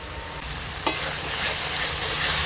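Spices for rajma masala, including turmeric and chili powder with salt, sizzling in oil in a pan while being stirred, a continuous loud hiss with one sharp scrape of the spatula near the start.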